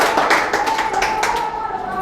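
A training class clapping hands together, a short burst of brisk, fairly loud claps in an indoor room, with a voice speaking alongside.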